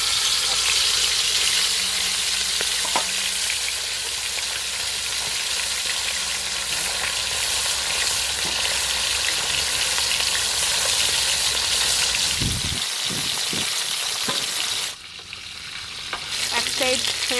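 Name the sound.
fish frying in hot oil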